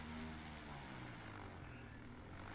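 A propeller airplane engine drones steadily in flight in a flight simulator game, a continuous low harmonic hum that holds at an even level throughout with no talking over it.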